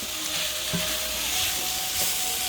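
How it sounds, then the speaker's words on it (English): A skillet full of green beans sautéing in butter, a loud continuous frying sizzle with faint occasional stirring noises, close up and without voices. "So saute them for a couple of minutes. I like to get that butter to kind of cook and fry them"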